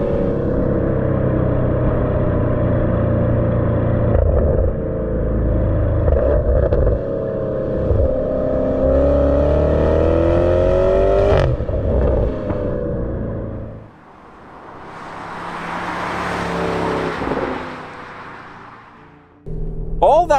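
A 2024 Porsche Cayenne Turbo GT with a 4-liter twin-turbo V8 accelerates hard, its loud engine note climbing steadily in pitch, then cutting to a rushing whoosh as the car passes.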